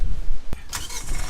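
A brief engine start: a sharp click, then the motor cranks and catches with a rising rumble, close and loud.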